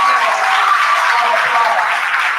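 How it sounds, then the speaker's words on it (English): Graduates applauding at a commencement ceremony, a thick continuous roar of many hands clapping at once, loud and sustained with no gaps. "we all stand here collectively to applaud our own accomplishments."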